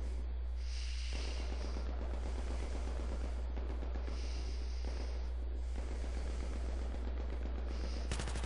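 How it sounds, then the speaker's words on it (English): Battlefield 3 gunfire on the Karkand map sounds as sustained, rattling automatic bursts, loud and close, with brief pauses between volleys and a constant low hum beneath. "I'm under fire."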